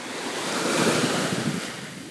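Ocean waves and surf break steadily on Los Cristianos beach, Tenerife, a continuous broad wash of water that swells slightly toward the middle, with some wind buffeting the microphone and no voices.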